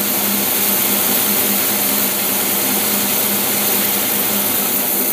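Engine fed by a Rochester carburetor runs at a steady, even idle with a continuous broadband hum and low drone throughout, loud and close with no voices.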